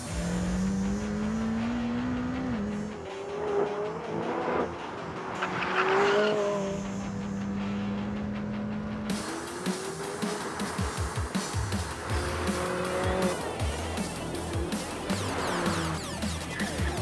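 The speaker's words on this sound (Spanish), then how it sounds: "ningún auto está realmente terminado hasta que se le ponga a prueba en la pista de pruebas" A McLaren supercar on a factory test track, its engine climbing and falling through revs with tires squealing in sharp bursts, loud and close throughout.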